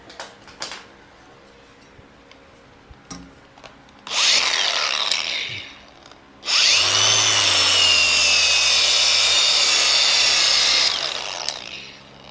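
A power sander with a 100 grit pad running in two loud bursts, a short run followed by a longer steady whine, close up with a pause between.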